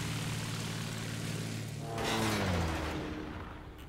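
Propeller airplane drone in Civilization VI, a steady engine hum that swells into a louder passing roar midway and then fades, with no voices.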